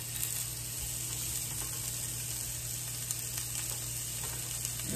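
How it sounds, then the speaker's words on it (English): Sausage fries in a pan for a home breakfast, a faint, even sizzle over a constant low hum with no talking. "Now I'm cooking the sausage."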